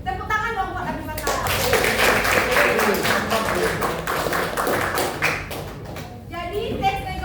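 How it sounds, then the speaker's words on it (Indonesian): Classmates clap for a student in an Indonesian classroom, a burst of dense, close clapping with taps and thumps that rises after a moment and tapers off, with voices around it. "Tepuk tangan dong buat Abimata."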